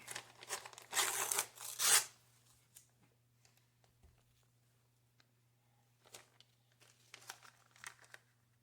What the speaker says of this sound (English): So I'm gonna get my masking tape. This is what I use for transfer tape.